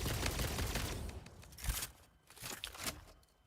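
Rapid gunfire from a magazine dump in the multiplayer game Satisfactory, a dense burst of shots that thins into scattered cracks and clatter over a few seconds.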